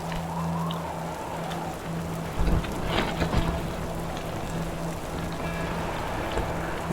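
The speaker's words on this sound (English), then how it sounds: "I can watch the rain coming in" Steady rain patters on a tent nearby, with a low rumble of thunder rolling through partway, under a faint constant hum.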